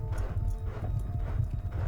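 Horse hooves clip-clop in a quick galloping rhythm on a racetrack setting, a dense muffled run of thuds with faint noise over them.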